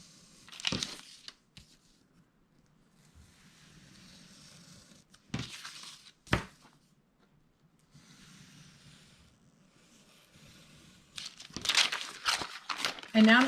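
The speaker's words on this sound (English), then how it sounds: "and trim away the excess paper" Excess paper on a handmade paper purse gift is trimmed with a finger blade craft knife, giving quiet, intermittent crinkling and scraping bursts separated by soft rustling pauses.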